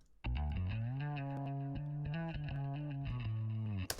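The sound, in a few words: fretless bass solo with chorus, delay and light distortion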